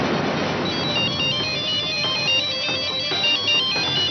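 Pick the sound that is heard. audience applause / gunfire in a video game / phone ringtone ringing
phone ringtone ringing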